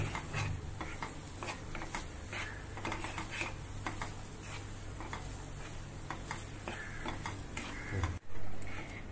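Poppy seeds and almonds are stirred while roasting in a pan over a low flame. A steady stream of light scraping and ticking strokes runs throughout, ending in a brief louder knock.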